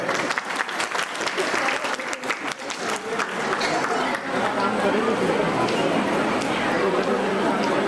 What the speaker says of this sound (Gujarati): એટલે ફરીથી બધા તાળી પાડો એ લોકો માટે